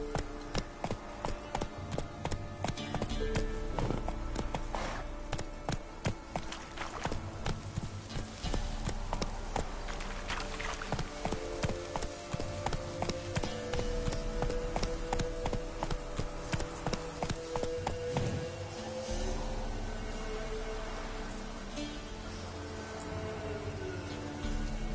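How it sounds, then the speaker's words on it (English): A horse's hooves clip-clop steadily on the ground in a video game, with a continuous run of close, even beats lasting about twenty-five seconds under a soft ambient background. "Whoa there, Roach."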